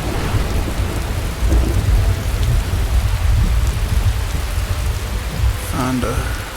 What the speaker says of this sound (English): Fucking downpour.